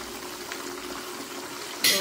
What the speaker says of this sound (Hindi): तो आप देख सकते हैं हमने इसमें जो पानी डाला है तो इसमें कितने सारे बबल्स आ रहे हैं